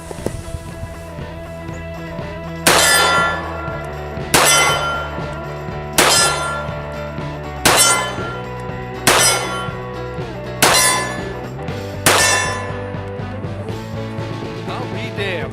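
A SDS1911 .45 ACP pistol fires seven sharp, loud shots at steady intervals of roughly one and a half seconds, each a bright metallic crack with a short ringing decay over a low background hum.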